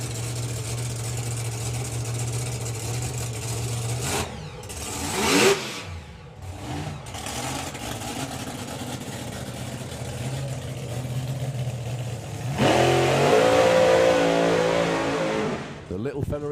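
Supercharged outlaw drag racing cars at Santa Pod Raceway rumble and rev at idle, with a sharp blip around the middle and a louder roaring surge near the end, while people talk nearby.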